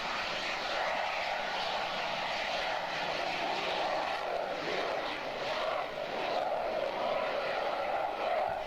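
A B-1 bomber flies by with a constant, loud, broad engine roar that holds steady throughout with no clear rise or fade.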